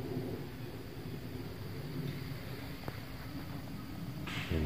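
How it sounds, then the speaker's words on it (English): Steady rain falls on a lake at a fall campsite, a dense, even hiss close by that fills the whole stretch, with a faint tap partway through and no voices. "I'm thinking it's going to keep raining, or at least misting like this."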